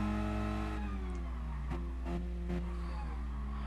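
A Mazda Roadster in Gran Turismo Sport, heard from a third-person view on track, holds a steady revving engine drone with harmonic pitch shifts as it changes speed, continuous and close with no talk.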